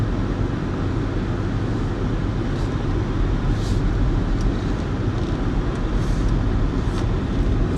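A car drives along a road, heard from inside the cabin: a steady, moderately quiet broadband road and engine hum with a few faint brief clicks, no voices.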